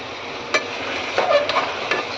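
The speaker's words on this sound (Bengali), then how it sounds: "তা ভালো করে মিক্স করে নেব চিকেনটা আমি।" Chicken with salt and black pepper stirred and mixed in a pan for Chicken Makhmali, a steady close scraping hiss broken by a few louder spoon knocks against the pan.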